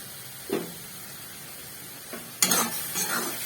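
Chili chicken sauce frying in a pan for gravy chili chicken: a steady soft sizzle broken by a few sharp scraping stirs and spatula clanks against the pan, close and fairly loud, with no voices.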